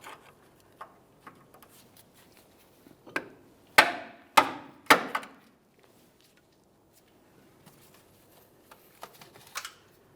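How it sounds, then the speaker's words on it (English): A hammer gives a pry bar three sharp, close metallic bonks, with a couple of lighter taps, while the bar is held against a tie rod boot clamp on a 2002-2009 Chevrolet Trailblazer's front inner tie rod. No one speaks. "we'll just use a pry bar and give it a loving bonk with a hammer"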